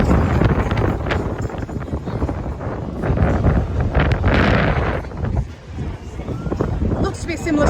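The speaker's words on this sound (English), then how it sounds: "It's a little bit windy" Loud wind rumbling and buffeting close on the microphone aboard a cruise ship, gusting unevenly beneath a person talking.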